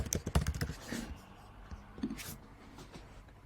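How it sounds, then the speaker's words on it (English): Quick typing on a computer keyboard, with a flurry of sharp, close key clicks at the start that thin into scattered taps, heard alone at a quiet level. "I'll just quickly type it in here."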